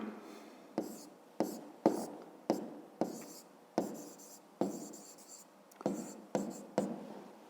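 A pen scratches across a notebook page while a fifth-grade math exercise is written out, about a dozen close, crisp strokes in an uneven rhythm with short gaps between them.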